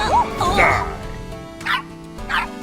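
A small dog in an animated Barbie movie barks in a few sharp, separate yaps, fairly close, amid speech and background music.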